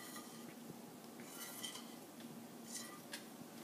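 Dry sand is stirred in a container, giving soft gritty scraping and a few light rattles, faint and close, with no talking.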